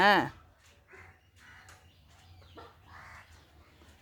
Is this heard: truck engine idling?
no